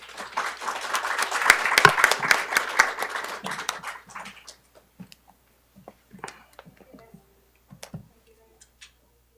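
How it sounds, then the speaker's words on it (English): A conference audience applauds two speakers, building to dense clapping that then thins into scattered, fading claps and a few knocks before the room falls quiet. "please join me to clap both of them"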